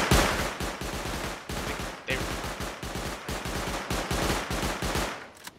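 Rapid turret gunfire during a video game raid, loud sustained bursts of evenly spaced shots running almost without pause and close to the listener.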